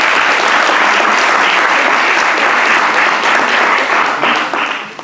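An audience at a scientific lecture on climate change and fish gives Dr. Rogelio a strong round of applause, loud, dense and sustained before tapering off at the end.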